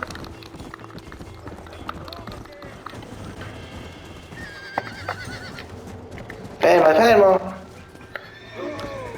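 A horse in the video game Red Dead Redemption gives a loud, shrill neigh partway through, over soft hoof and ambient game sounds. Someone talks in Italian earlier in the stretch.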